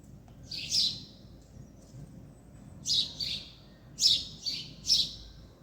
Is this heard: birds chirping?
yes